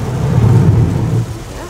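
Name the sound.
heavy rain downpour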